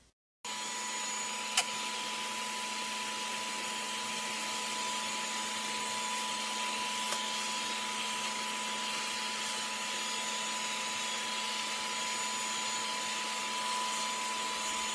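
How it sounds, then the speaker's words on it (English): A vacuum cleaner sucks debris off a model train layout, running with a steady, close, continuous drone for the whole stretch after a brief start, with no talking. "I think we're going to have to get out the vacuum and vacuum this up."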